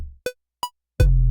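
Unprocessed 808 bass for a hip hop based K-pop track, sounding thin and weak: two brief plucked notes followed by a plain sustained low tone with little grit, quieter and cleaner, heard alone.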